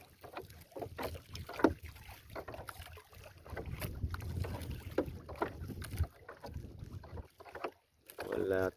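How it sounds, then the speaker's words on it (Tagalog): Wind gusts roar steadily across the microphone on a small fishing boat at sea, with water sloshing against the hull and rustling handling noise beneath. "Mahangin na naman, mga kaibigan."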